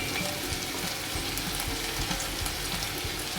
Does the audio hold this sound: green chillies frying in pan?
yes